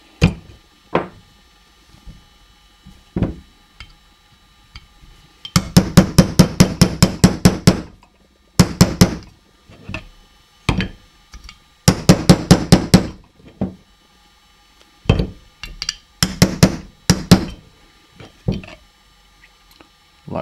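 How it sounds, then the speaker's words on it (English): Repeated hammer blows knocking a roll pin out of a Smith & Wesson 22A pistol frame, sharp metallic taps arriving in rapid bursts of about a dozen strikes with short pauses and single taps between, close and fairly loud. "So don't hammer this roll pin completely out of the frame"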